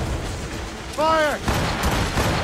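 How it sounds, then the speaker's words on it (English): Cannon fire during a naval battle in the video game Assassin's Creed Rogue: a heavy boom bursts out, then a second blast quickly follows, with a shouted command ringing between them. "Cannon ready!"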